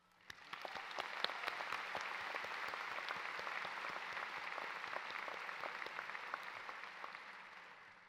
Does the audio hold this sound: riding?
no